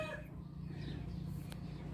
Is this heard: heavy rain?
no